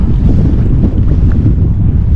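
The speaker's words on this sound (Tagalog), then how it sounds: "Ay, lakas ng hangin. Ay, ang hangin dito guys. Sobra." Loud, steady wind buffeting the microphone while fishing, a heavy roaring rumble with no pauses.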